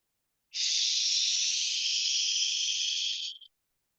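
A person breathes out forcefully through the mouth to imitate a pressure cooker whistle, making a single steady hiss of about three seconds that is close and fairly loud, then cuts off abruptly.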